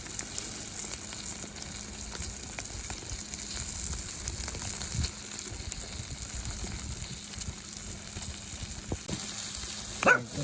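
Fajitas sizzle steadily in a pan over a campfire, a faint continuous hiss with no one speaking, ending in a brief louder clatter.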